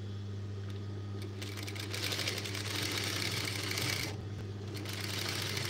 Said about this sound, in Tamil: பார்த்து கவனமாக தைங்க, நல்லா நீட்டாக ப்ளசன்டபுளாக வந்து தைங்க